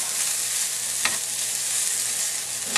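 Meat for baked beans fries in a pan as part of a Fourth of July meal, giving a constant loud, dense sizzle with one sharp scrape partway through.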